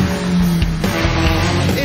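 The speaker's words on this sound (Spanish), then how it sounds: "es un derrape controlado" A midget race car drifts on a dirt track, its engine snarling loudly up close with a brief skidding rasp of tires sliding through the loose surface.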